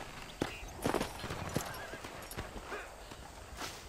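A horse walks slowly in the Western video game Red Dead Redemption, irregular soft hoof clops on dirt heard fairly faint and close, with light rustling and no talk.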